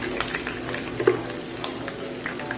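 Chopped garlic goes into hot oil for a raw mango pickle, giving a steady, moderate sizzle and crackle with light stirring and a few small pops.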